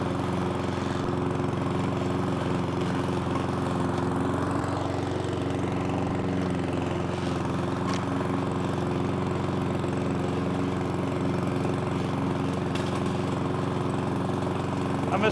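A Cobra MX460SPC self-propelled petrol lawnmower runs steadily at a constant drone throughout, close and loud, with no talk over it.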